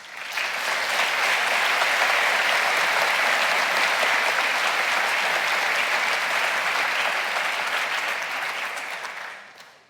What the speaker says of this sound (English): you've done a lot of clapping this afternoon